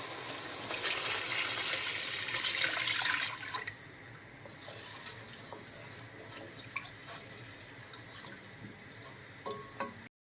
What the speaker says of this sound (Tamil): அதுக்கு 4 கப்பு தண்ணி ஊற்றி